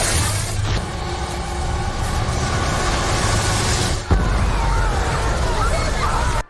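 A loud, sustained rumbling blast of a film explosion in the movie Bones, with dense crackling debris noise, continuing for several seconds before a sharp secondary burst near the end.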